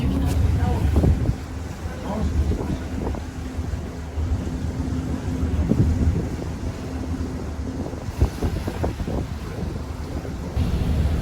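A ferry cruising on Lake Como, with a steady low engine rumble and water rush buffeted by wind noise on the microphone, plus occasional soft thumps and faint voices nearby.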